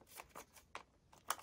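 Paper folded for a unicorn origami gives a handful of soft, close crinkles and creases, five brief rustles spaced irregularly, with the last one slightly louder.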